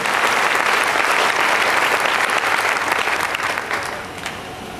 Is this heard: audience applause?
yes